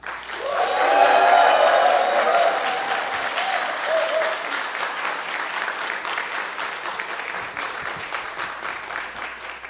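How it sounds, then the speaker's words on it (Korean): Loud applause and cheering from an audience welcoming a pastor and theology professor onto the stage, swelling within the first two seconds and then settling into steady clapping that continues to the end. "나오실 때 우리 열화와 같이 환호성을 외치면서 환영하는 우리식의 방법이 있지요"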